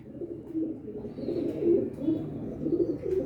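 Domestic flying pigeons kept for breeding coo in soft, low, throaty phrases that repeat several times at close range, with light background noise and a hint of a voice.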